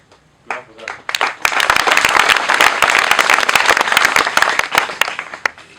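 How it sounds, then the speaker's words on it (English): A crowd applauds at a Rotary Club handover ceremony for a dormitory and sanitation project, with dense, loud clapping that rises quickly, holds steady for several seconds and tapers at the end. "Clap for that."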